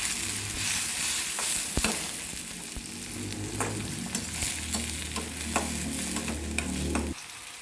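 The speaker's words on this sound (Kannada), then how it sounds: "ಈಗ 1 ಟೊಮೆಟೊ ಸಣ್ಣ ಕಟ್ ಮಾಡಿದ್ದು ಹಾಕಿ 1 ನಿಮಿಷ ಫ್ರೈ ಮಾಡ್ಕೋಬೇಕು." Small-cut tomato with green chillies frying in a pan for hotel-style dal fry, a continuous sizzle with repeated spoon stirs and scrapes, no talking.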